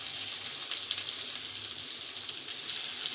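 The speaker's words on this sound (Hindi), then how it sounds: "भिंडी को हम ऑयल में अच्छी तरीके से फ्राई करेंगे हाई फ्लेम पर" Chopped okra fries in hot oil over a high flame, giving off a steady, close, hissing sizzle that holds even and unbroken with no voices over it.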